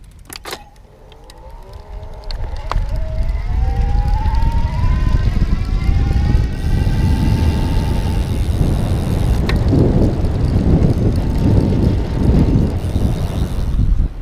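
An Easy Motion EasyGo Volt electric bike ridden at speed: a rising motor whine climbs in pitch over the first seconds, then steady loud wind rush and road rumble with the whine holding beneath it.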